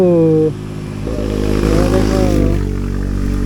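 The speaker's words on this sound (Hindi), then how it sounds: "तुम्हारा बाइक से ज्यादा इसका साउंड है।" A motorcycle engine rumbles nearby and revs up, its pitch rising and falling, with a voice speaking briefly near the start.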